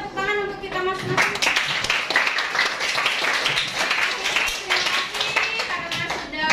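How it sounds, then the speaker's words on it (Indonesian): Group applause with clapping across the whole span at a steady, dense level after a talk on a collaborative Canva teaching method, with voices and a few cheers mixed in over the clapping. "Mari kita tepuk tangan untuk kita masing-masing."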